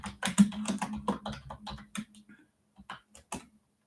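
Close keyboard typing in a quick burst of clacking keystrokes that thins into a few scattered taps, with no talking.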